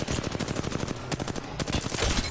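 Rapid automatic gunfire rattles in the Apex Legends video game, with dense, loud bursts of shots in fast succession and a brief pause partway through.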